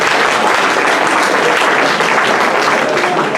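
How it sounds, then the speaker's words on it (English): Dense, loud applause from a crowd, continuous clapping filling the whole moment without pause. "Let us all give them another nice, deserving round of applause to these gentlemen."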